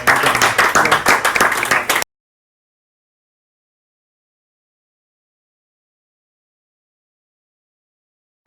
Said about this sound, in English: Give Chris a hell of an applause.